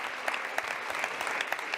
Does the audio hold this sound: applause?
yes